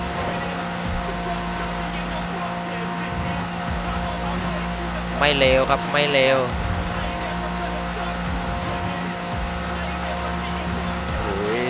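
BMW i8 hybrid sports car with an engine upgraded to 614 horsepower, running flat out near its top speed on a road. A steady, loud drone of engine and wind fills the whole stretch, and someone speaks briefly in the middle.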